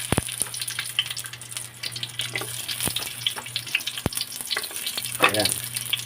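Chopped onion dropped into hot cooking oil in a pan for chicken adobo, giving a steady close crackling sizzle with a few sharp clinks and a brief wet burst near the end.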